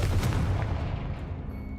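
A blasting-spell explosion in a video game booms out loud and close, one broad rumbling burst that slowly fades over about two seconds.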